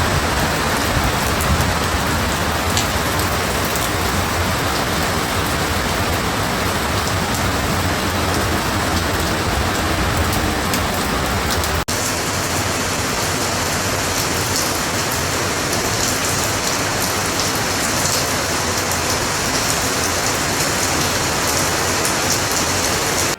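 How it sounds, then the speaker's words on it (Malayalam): Heavy rain pours down steadily over ground and plants, a dense, close, unbroken hiss of drops that stays loud throughout, with no voices. "അപ്പോൾ ആ മഴേൻ്റെ കുറച്ച് കാഴ്ചകൾ കണ്ടാലോ."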